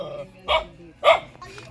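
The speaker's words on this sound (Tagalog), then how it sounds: "parang wala siyang pakialam pero tahol pa din siya" Two short dog barks roughly half a second apart, close by and moderately loud, with a third fainter yelp after them, heard over a quiet room.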